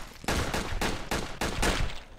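Heavy gunfire rattles through a Red Alliance match, loud close bursts hammering in several long volleys with short gaps between them, no voices over it.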